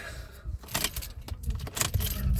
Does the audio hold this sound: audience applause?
no